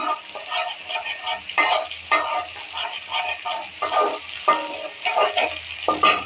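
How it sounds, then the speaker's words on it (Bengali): Spice paste sizzling in a hot wok, a steady close frying hiss with repeated scraping stirs breaking through in uneven bursts. "কড়াই বসিয়ে দিচ্ছি পেস্টটা আমি লাল করে নিচ্ছি"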